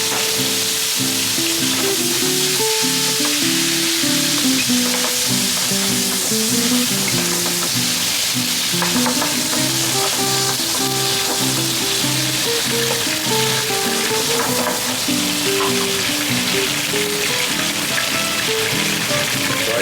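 Garlic fries loudly in a pan with a dense, continuous close sizzle and crackle, steady throughout with no voices.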